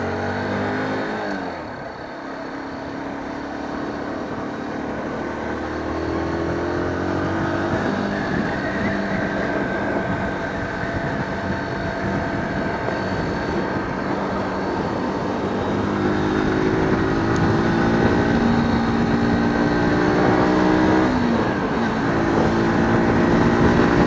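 A learner rider's motorcycle pulls away on a U.K. road after the rear brake is released, its close, loud engine note climbing steadily in pitch over a long stretch of acceleration, with wind rush and no talking.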